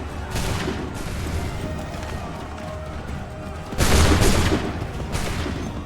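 A volley of musket gunfire on command in Assassin's Creed 3, with a sustained crackle of many shots and a louder burst of massed fire near the end.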